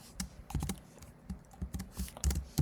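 Code is typed on a computer keyboard: close, crisp keystrokes in quick irregular bursts with short pauses, heard alone without talk.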